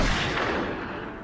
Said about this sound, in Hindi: गोलियां चल रही हैं।